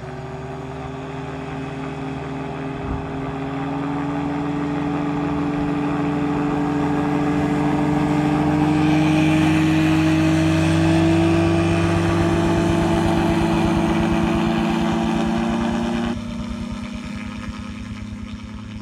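A Tango 2 gyroplane engine builds to a loud, steady, droning roar with a rising pitch during the takeoff run, then eases slightly near the end.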